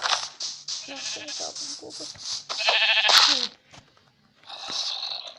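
Sheep bleats from a Minecraft game, several short wavering calls in quick succession, fairly close and loud, with a brief pause before a final bleat.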